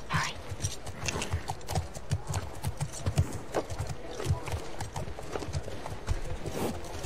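Steady hooves clip-clopping at a walking pace in the video game The Last of Us Part II, close and fairly loud, with a game-like ambient bed and occasional soft voices underneath.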